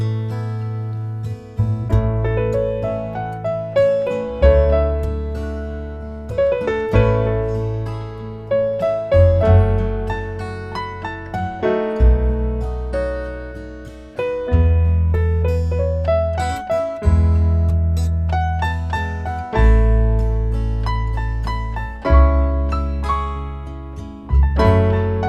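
A keyboard improvises on the A pentatonic scale over a backing track, bright melodic runs above deep rhythmic bass chords, steady and close with no talking.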